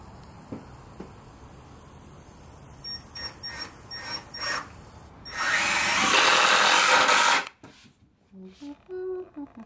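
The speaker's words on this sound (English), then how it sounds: "we're gonna just screw the slats in so they don't move" A power drill drives screws into wooden slats of a dog bed, with short bursts of whirring followed by one long, loud run of several seconds, then quieter handling noises and brief talk.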